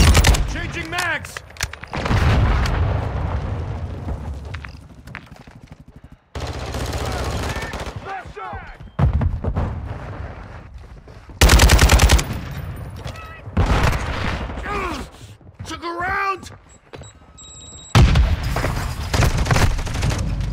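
Machine gun fire in Modern Warfare 2 comes in loud, sustained automatic bursts broken by short gaps, close and dense, with occasional shouted voices mixed among the shots.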